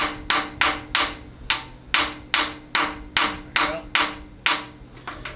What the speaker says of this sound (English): we have to smash a half inch on here to get it to come out